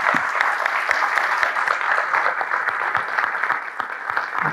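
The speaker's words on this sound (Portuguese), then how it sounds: "Uma salva de palmas para os nossos convidados." An audience at a talk-show session with guests gives steady, dense applause for several seconds, with many hands clapping close together and no talking over it.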